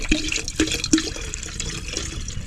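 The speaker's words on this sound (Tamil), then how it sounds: "எல்லாத்தையும் ஊற்றிடுவா தண்ணி." Water splashes from a vessel into a cooking pot while rice porridge is being made, with a few sharp splashes and drips at the start over a steady, close pouring wash.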